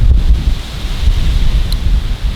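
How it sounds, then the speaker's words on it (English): Strong wind of about 40 mph gusts buffets the microphone in heavy, continuous low rumbling gusts, with no voices. "It is about as windy as it could possibly be. It's like 40-mile-an-hour gusts."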